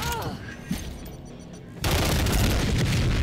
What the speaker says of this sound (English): Bullets flying everywhere